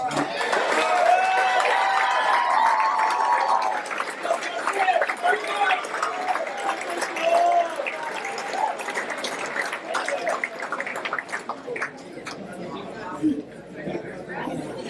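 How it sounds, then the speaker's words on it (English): Sustained applause from a seated crowd at a tennis banquet, loud and dense at first, then thinning into scattered clapping and murmuring chatter toward the end. "That's a very well-deserved applause"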